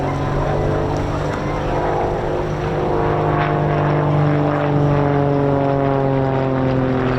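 An RAF Typhoon jet flies an aerobatic display at the RAF Cosford Air Show, pulling through a loop. Its loud, sustained engine roar fills the air, and its tone slowly shifts and swells as the aircraft moves.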